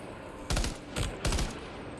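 Gunfire in a shooting video game, three quick bursts of shots at a low, faint level, heard on their own.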